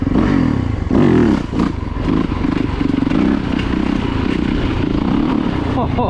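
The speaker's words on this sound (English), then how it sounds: "See if I can do one more good wheelie right up through here." A Yamaha YZ450FX dirt bike engine roars loud and close through a wheelie, with a steady high-revving snarl that surges at about one second, dips briefly, then holds strong under wind buffeting.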